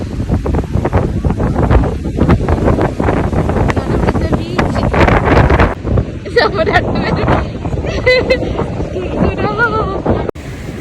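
Gusty wind near the Burj Al Arab hotel, strong enough to bend plants, roars across the microphone throughout while a person talks over it, with some faint higher sounds in the background later on.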